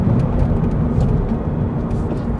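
A 2022 Toyota GR86 engine drones and rises in pitch while downshifting to fourth gear, a steady loud low-pitched rumble heard from inside the car without speech.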